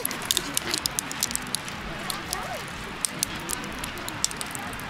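Lighter fluid soaking into barbecue charcoal gives off a steady, close, fine crackling with scattered sharp pops, while quiet voices murmur faintly in the background.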